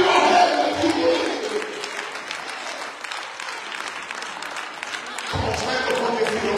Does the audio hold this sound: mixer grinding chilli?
no